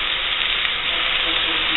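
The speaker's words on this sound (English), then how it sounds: "You're going to brown these meatballs" Turkey meatballs brown in a crowded pan, giving a loud, steady hiss of frying fat that sizzles continuously with no pauses.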